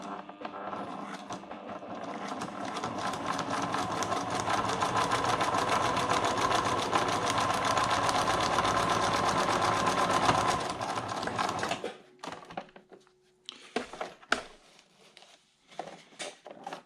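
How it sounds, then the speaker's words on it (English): A sewing machine stitches a tight zigzag over a hole in Gore-Tex fabric, its needle chattering in a fast, steady close-up run for about twelve seconds before stopping, followed by a few short bursts. "we're going to use the sewing machine and sew a tight zigzag over the hole before we tape it"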